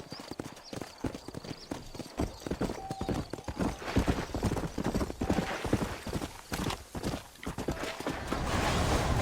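Horse hooves clip-clop in a fast, steady rhythm across the ground in the Red Dead Redemption video game, loud and close, with a rider's brief voice and faint background sounds mixed in.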